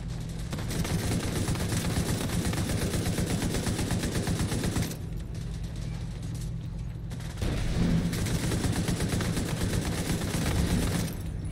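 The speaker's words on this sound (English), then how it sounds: "Light machine gun to the rescue." A light machine gun fires in a video game, loud and rapid sustained bursts that break off for a couple of seconds midway and then resume.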